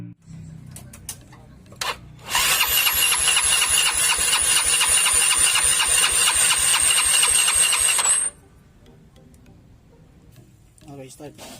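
A Yamaha Mio Sporty scooter engine catches after a few starter cranks, then runs close and loud at a steady buzzing idle for about six seconds before being shut off, with quieter sounds after. The engine was rebuilt with a new shaft drive bearing.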